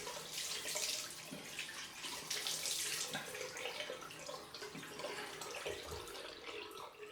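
Tap water runs steadily into a sink while a shaving razor is rinsed under it, a close, continuous splashing wash with small shifts as the blade moves through the stream.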